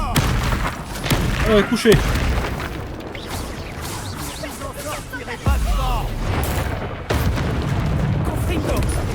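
Spell explosions in the video game Hogwarts Legacy, dull booms and bursts that keep hitting through a busy fight, mixed with shouted voices and chatter in French.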